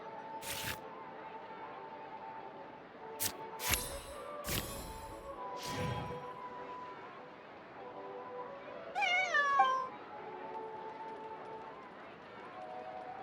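Cat meows from a game character's cat in Genshin Impact, a few short mewing calls with a rising, wavering cry near the end, heard between bursts of game sounds and under background music.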